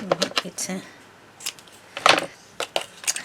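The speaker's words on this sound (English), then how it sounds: "I'm going to cut it just with my scissors at the halfway point" Scissors snip through a folded paper piece at its halfway point while making a scalloped square memory book, giving a few short, crisp cuts close up with pauses between them.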